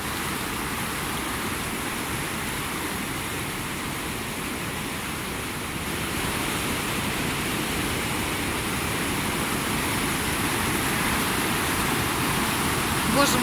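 Strong rushing stream of water, a dense, continuous roar with steady loudness from start to end, with no voices heard over it.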